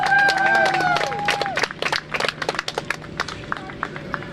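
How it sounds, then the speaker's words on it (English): Rally crowd applauding, scattered claps and cheers rising after a brief stretch of speech, then thinning into separate claps as it dies down. "Could you give them a loud round of applause really quick?"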